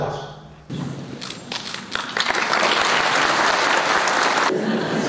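Audience applause at an award ceremony for a university excellence prize swells after a quieter start and holds as steady, dense clapping, with faint voices and a few thuds underneath.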